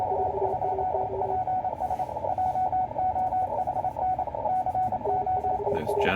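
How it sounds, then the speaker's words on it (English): An amateur radio station calling CQ over and over, a steady tone-like signal on a busy band with continuous hiss and static, moderately loud and unbroken, no voices. "So he's just going to be calling CQ over and over until he gets people calling him."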